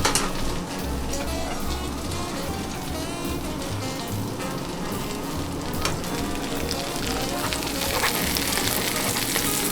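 Eggnog French toast fries in melted butter in a pan, a dense steady sizzle and crackle heard up close throughout, with faint background music and no talking.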